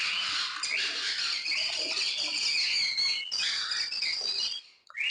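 A dense chorus of high, rapid chirps comes from conure and cockatiel chicks at a bird farm. The chirping is loud, close and continuous, then cuts off abruptly near the end.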